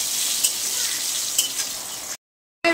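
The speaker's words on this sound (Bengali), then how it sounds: "আর আমি এখন রান্না করছি ডিমের ঝোল।" Egg curry cooks in a pan with a steady broadband sizzle and frying hiss, brief stirring clinks, then a short cut to silence before the sizzle resumes.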